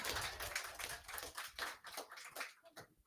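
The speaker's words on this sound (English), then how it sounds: "You can clap for that." An audience clapping in a round of applause, a dense patter of many hands that swells and then thins out toward the end, heard fairly close with no talking over it.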